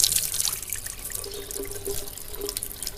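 Water running and splashing softly into a sink during wudu washing of the face, with a steady tap flow and gentle irregular splashes, close and continuous with no talking.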